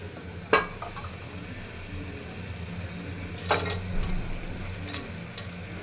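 Beans tipped into a sizzling pan for vegetable kurma, with a steady low fry hiss, a couple of sharp clinks of a utensil on the pan and bursts of stirring scrapes.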